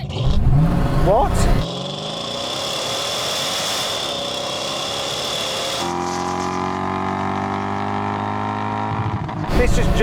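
A car accelerates hard off the line in a drag race, its engine climbing steadily in pitch, then a gear change and a second rising pull, loud and close, with brief voices and noise at the start and end.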